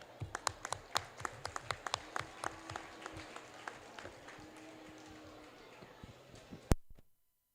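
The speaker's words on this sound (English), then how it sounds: "Please give a round of applause for our judge." An audience at a meat goat show gives the livestock judge a round of applause, scattered, sparse claps heard through the arena, fading out before a final sharp clap and silence.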